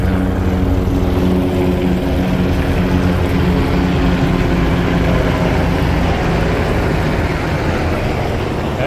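A helicopter flies over drought-dry farmland planted with young cabbage greens, its steady low rotor and engine drone filling the scene without a break, loud and close.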